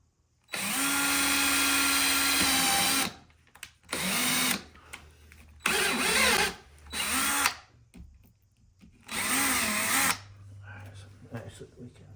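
A power drill drives screws into a built-in cabinet with a window seat: several close, loud bursts of whirring, the first long and the rest shorter, separated by brief pauses.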